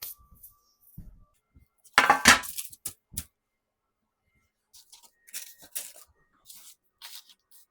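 Cut-out Christmas cookies are set onto a baking pan. Sparse light clinks and taps sound close by, with a cluster of louder metallic knocks around two seconds and a few quieter placements later, separated by silent gaps.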